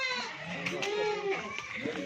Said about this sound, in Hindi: मैं आपको और बकरियाँ भी दिखाता हूँ।